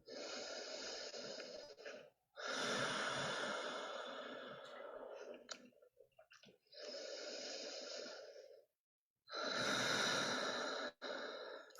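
Slow, deep breaths during a gentle chair yoga session, four long airy cycles, each several seconds, separated by short pauses, close and fairly loud with no voice.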